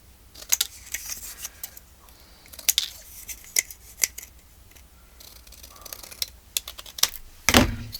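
Scissors trimming a paper flash card pocket, a series of crisp, close snips and paper rustles in irregular bursts, ending with a louder scrape, no speech.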